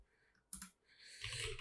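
A computer keyboard in use while a Linux terminal command is entered, heard as a few faint, close key clicks and taps in a short, quiet stretch.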